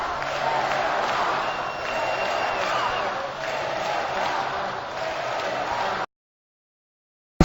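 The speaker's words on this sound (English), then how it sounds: "Let's go Hawks, resonating from the crowd once again, showing their appreciation for this young team." Hockey arena crowd at an SPHL title game between the Mississippi Surge and Augusta Riverhawks, chanting for the Hawks: a steady wash of massed voices and cheering for about six seconds, then sudden silence.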